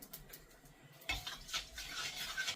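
Mustard seeds and fenugreek spluttering in hot oil in a home kitchen pan, a quiet scattered crackle that steps up at about one second into a denser, brighter popping and hiss that holds to the end.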